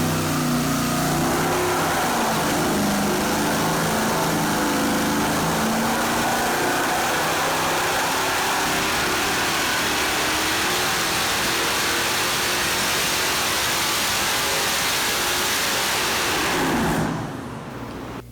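A turbocharged 5.3 liter LS V8 roars under load on a dyno, a loud, sustained pull with rising pitch for about seventeen seconds before cutting off abruptly into near silence.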